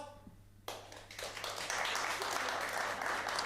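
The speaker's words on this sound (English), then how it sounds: "Who's got kids by round of applause?" Audience applause at a live comedy show, starting abruptly after a quiet moment and swelling into a full, sustained round of clapping from the crowd.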